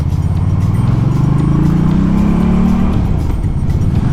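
An FKM Coolser 500 motorcycle engine revs up from idle, the deep throaty note rising and holding high before dropping back down, loud and close with no voices.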